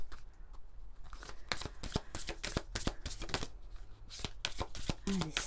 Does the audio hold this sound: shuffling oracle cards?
yes